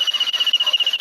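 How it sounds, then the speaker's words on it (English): A ghost hunting proximity alarm sounds inside an abandoned jail, emitting a steady, piercing high electronic tone that pulses rapidly and evenly, close and loud, with no voices. "If you come close to that device, it should go off."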